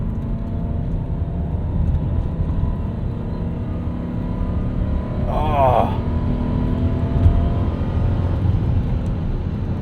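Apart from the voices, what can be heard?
1996 BMW 735i manual engine accelerating to 6,000 RPM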